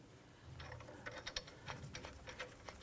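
A ratchet tightening the nut on a Jeep Grand Cherokee sway bar end link, giving quick bursts of close, faint clicking in an uneven rhythm.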